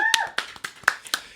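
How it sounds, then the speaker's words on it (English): A handful of scattered claps ring out for a guest at the end of a podcast interview, uneven and close, with a brief voice at the very start. "Let's give one big round of applause for Dr. J. Woo!"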